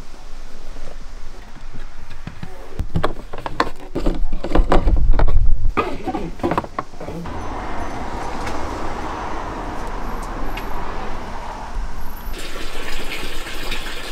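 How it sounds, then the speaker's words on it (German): Water gushes steadily from a tap into a camper's water tank, a continuous hissing rush under some clunks and handling noises early on. "füllen wir mal den Wassertank auf."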